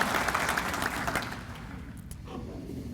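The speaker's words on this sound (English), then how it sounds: "Let's give them a round of applause." Crowd applause at a Holstein Association USA gathering fills the room, loud at first and then fading to a thinner patter of clapping.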